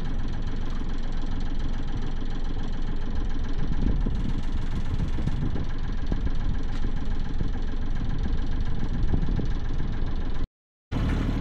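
A boat's engine runs steadily nearby on the water, a continuous low droning rumble that holds at an even loudness until it briefly cuts out near the end.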